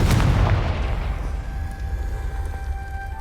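A Confringo fire-blast spell in Hogwarts Legacy lands as a loud, booming explosive burst at the start, then decays into a lingering rumble with faint tonal game sounds trailing after.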